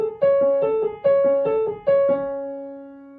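A solo piano plays a short repeating passage from a piece: three rising phrases of clear, close notes, ending on a sustained chord that fades out.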